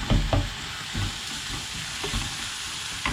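Onions sauté in a covered pan for a dried-fish thokku, sending out a steady crackling sizzle with a few low thumps and scrapes up close.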